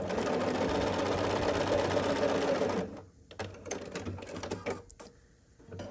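A sewing machine stitches quilt block pieces together, running fast and steady at close range for about three seconds, then stopping and leaving scattered handling clicks and rustles of fabric.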